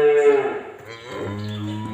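A cow, a long-bodied beef animal, moos with a deep, drawn-out harmonic call that rises and falls across the whole stretch, loud and close, with no talking.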